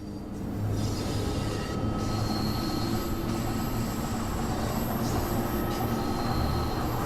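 Steady rolling rumble of a train in the Train Sim World 5 video game, a continuous loud drone with faint high wheel squeal, heard alone without talk.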